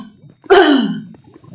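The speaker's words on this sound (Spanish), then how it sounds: "Perdón, tengo hipo." A single sharp vocal hiccup bursts out close to the microphone, a short voiced yelp with a falling tail, set against quiet room noise.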